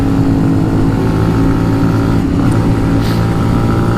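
A 2018 Benelli TNT 135 motorcycle runs close by, its small single-cylinder engine holding a loud, steady idle with a firm low hum and a brief blip partway through.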